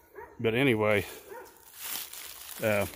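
A neighbor's dogs bark outdoors in a few yapping bursts, fairly close, with someone talking over and between the barks.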